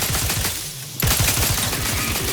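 Rapid automatic gunfire rattles in the video game The Outer Worlds 2, a dense burst that drops out briefly and then resumes in fast, loud, close repeated shots.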